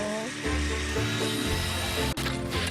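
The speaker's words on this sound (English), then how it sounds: "Give a girl a power tool." A power tool cuts through wood with a steady, buzzing whine whose pitch shifts in steps as the blade bites, loud and continuous with a brief dropout near the end.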